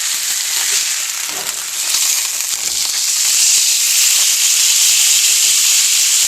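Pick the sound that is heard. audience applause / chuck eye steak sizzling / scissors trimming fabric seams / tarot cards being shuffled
chuck eye steak sizzling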